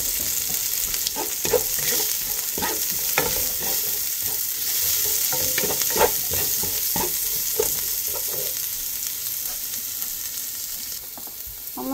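Onion and spices frying in a pan, a steady bright sizzle punctuated by repeated scraping and tapping of a stirring utensil, close and continuous with no voices.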